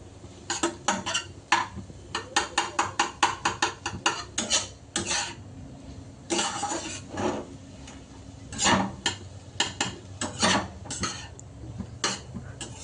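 A utensil stirring egg in a pan while cooking, with rapid bursts of metallic scraping and tapping in quick rhythmic runs, pausing briefly between flurries, close and fairly loud.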